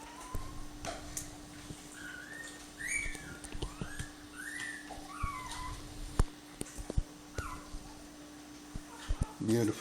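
Several puppies whimper and yip in high, squeaky bursts throughout, over a steady hum with some background voices.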